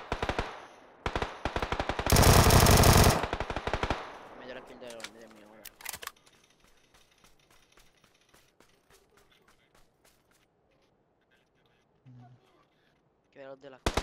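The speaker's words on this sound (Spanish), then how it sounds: "Pero ya está disparando allá arriba." Video game gunfire: rapid automatic bursts crackle loudly in the first six seconds, peaking in one dense sustained volley, then give way to sparse, quieter shots and near-silence before a final short burst.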